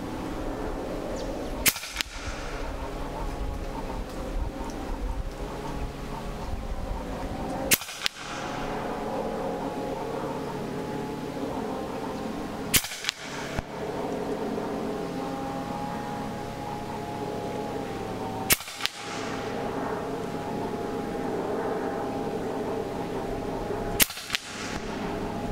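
An EDgun Leshiy 2 production-version air rifle fires at an outdoor range, five sharp, close cracks spaced about five seconds apart over a steady background hiss, with no talking.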